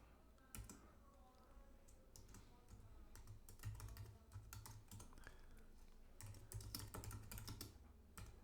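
Typing a script on a computer keyboard, with steady bursts of clicking keystrokes, close and clear, over a faint background hum.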